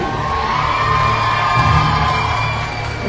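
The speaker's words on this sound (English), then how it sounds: "big round of applause, please" A large arena crowd at the 2007 MLG Las Vegas National Championships cheers and whoops in a steady, dense roar, loud and continuous throughout.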